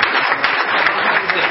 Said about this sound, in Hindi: सभी तालियां बजाकर